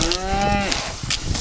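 Cattle on a farm, one from a herd of about 150 cows gathered at a water tank, giving a single loud, close moo that falls in pitch, over soft background rustle.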